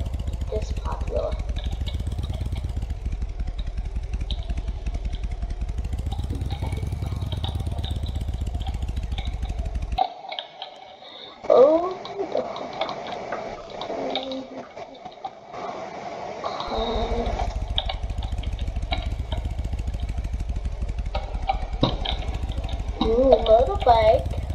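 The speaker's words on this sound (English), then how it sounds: "Motorbike." A motorbike engine hums steadily at a moderate level. It cuts out for several seconds midway, with scattered sounds in the gap, and then resumes its droning run.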